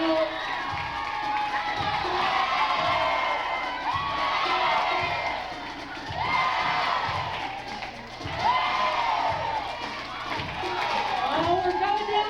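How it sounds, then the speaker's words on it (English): Spectators at a Universal Studios show shout and cheer for red and blue teams in a loud, sustained crowd roar that swells and dips in waves, with an announcer's voice and rhythmic thumps underneath. "Everybody cheer on your teams, on your mark, get set, and go."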